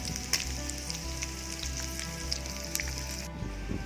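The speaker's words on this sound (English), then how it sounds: "You can see the bacon rendering very nicely, all the fat melted" Bacon frying and rendering its fat in a pan for spaghetti carbonara, heard as a steady close sizzle with dense crackling pops and a few sharper spits, with no voices.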